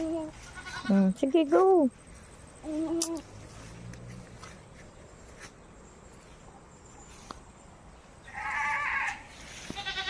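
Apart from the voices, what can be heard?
goat bleating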